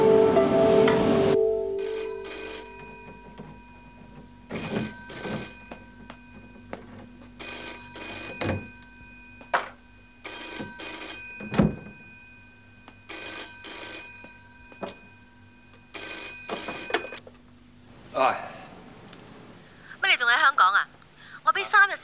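A telephone rings repeatedly in evenly spaced double-trill bursts, loud and close, with a voice speaking briefly at the end.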